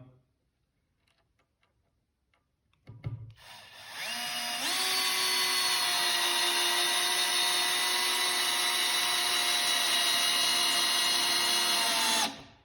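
A Bosch GSR 12V-140 drill/driver on speed 1 drives a 4-inch trim head screw, with a click and then a sustained high whine that rises slightly in pitch as it runs for about eight seconds before cutting off.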